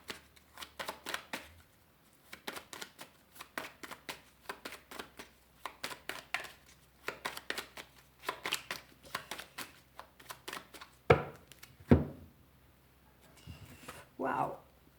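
Tarot cards are shuffled in quick riffling bursts, close and crisp, repeating in several runs with short pauses between, ending with a few louder slaps of the deck.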